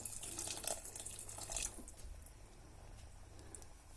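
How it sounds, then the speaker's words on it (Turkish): Boiled water poured over beans with pastırma in a clay güveç casserole, a faint, soft splashing stream that runs steadily for a moment, then eases into a quieter trickle. "Şimdi üzerine suyunu ekliyorum. Kaynamış su ekleyeceğiz."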